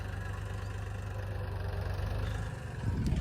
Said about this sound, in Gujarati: આપણું ટ્રેક્ટર પણ આવી ગયું છે